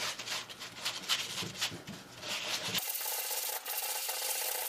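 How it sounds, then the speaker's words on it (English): A brush scrubs stain remover gel into fabric over a coffee stain, a close, steady rubbing rasp with rhythmic strokes that continues without pause. "it just says use brush to rub gel into fabric"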